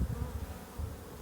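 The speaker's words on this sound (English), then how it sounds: "this is what the bees are doing. Hanging out at the front of the hives." Honey bees clustered and hanging out at the front of their hives, a close, steady low buzzing drone that swells slightly at the start and again near the end of the short stretch.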